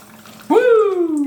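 Tequila, two ounces, poured from a bottle while mixing a margarita at home, giving a close, steady liquid stream that starts abruptly and runs on with a rising gurgling tone.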